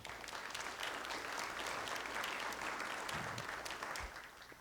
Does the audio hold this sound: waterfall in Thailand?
no